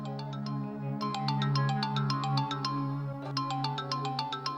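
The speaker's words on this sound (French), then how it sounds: "ton téléphone sonne" Mobile phone ringtone playing a bright, repeating melodic pattern of chiming tones over a steady sustained backing, fairly clear and uninterrupted with no voices.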